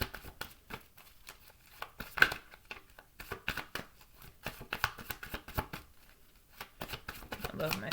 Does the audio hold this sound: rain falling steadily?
no